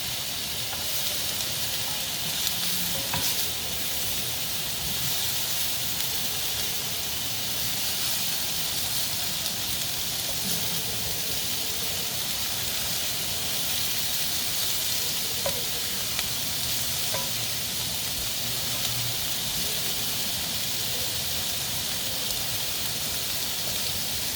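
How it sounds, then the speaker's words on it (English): Shrimp frying in a hot pan for shrimp fajita tacos, a dense continuous sizzle and hiss with occasional pops and stirring scrapes, loud and steady throughout with no talking. "Shrimp are going to cook pretty quickly, so try to get them so they're cooking on each side evenly."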